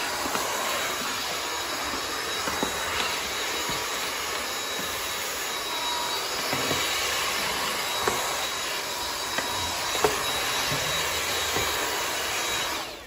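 A Dyson V8 Animal cordless stick vacuum with a crevice attachment runs continuously, a steady high whine with faint scattered ticks of debris being picked up, close and even throughout with no talking.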